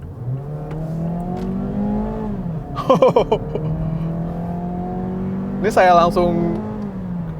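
A Mazda2 sedan's engine hums steadily from inside the cabin and rises in pitch under throttle, with quick upshifts breaking the climb twice, while someone talks over it.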